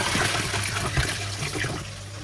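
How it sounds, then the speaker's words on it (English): Clean water pours and splashes steadily into buckets being filled for a swordtail fish tank, a continuous close gushing rush with no voices. "The next step for the tank was getting clean and new water for the tank, so I had to fill in a few buckets of these."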